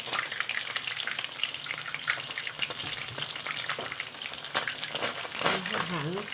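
Fish fries in hot oil with a steady, dense sizzle and crackle throughout, close by, with a few louder pops and faint background voices.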